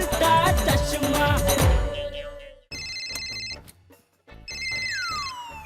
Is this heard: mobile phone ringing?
yes